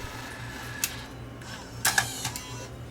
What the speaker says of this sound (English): I'm going to just eject the tape first